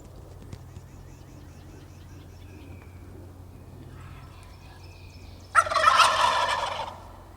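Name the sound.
wild turkey gobbling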